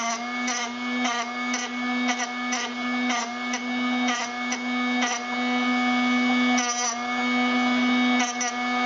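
A Drill Doctor 750X sharpener grinds a drill bit with a steady, close, high motor whine, broken by regular short bursts of grinding as the bit is turned against the wheel.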